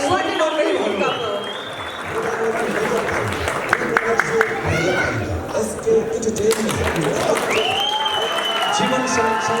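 An audience applauds a singer at a gathering, with a steady wash of clapping under overlapping voices and some tonal background sound that rises and fades.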